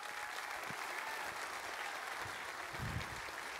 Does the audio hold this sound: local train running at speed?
no